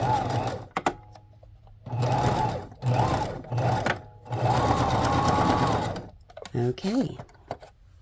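A sewing machine stitches a journal binding in several short bursts of rapid mechanical whirring, separated by brief pauses, up close and fairly loud, with a little talk near the end.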